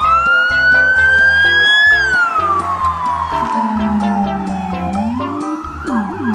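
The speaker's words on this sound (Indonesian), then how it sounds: "Wow, yang ini mobil bak polisi." A toy police pickup truck sounds its siren, a loud wailing tone sweeping up and then gliding down, continuous and close with no talking.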